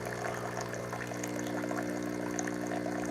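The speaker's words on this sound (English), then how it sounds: "I'm just gonna get my hot water ready for you" Hot water poured for coffee beside a Breville Barista Pro espresso machine, a faint steady trickle over a constant mechanical hum.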